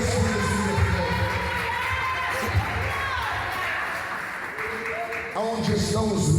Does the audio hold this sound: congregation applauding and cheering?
yes